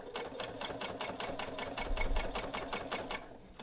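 Close, steady rapid stitching of a sewing machine closing the sides of a microwave potato bag, a fast even mechanical pulse with a faint low motor hum, no voices.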